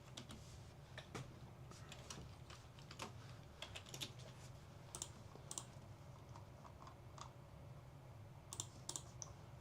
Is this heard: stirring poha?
no